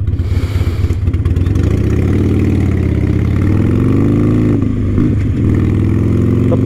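A Harley-Davidson motorcycle engine idles steadily and loud with an uneven, lumpy throb. The engine stays near throughout, with a brief blip of revs partway through.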